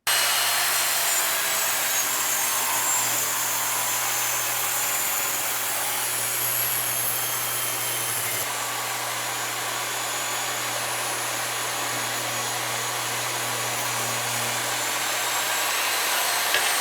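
An Evolution R10 TBLX saw runs through a cutting test with a loud, sustained high whine and a steady low motor hum that shifts slightly partway through, with no voices.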